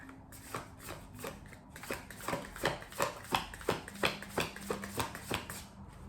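Tarot cards are shuffled by hand in a steady series of crisp riffling bursts, roughly one every half second, close and fairly quiet, with a faint tone humming in the background.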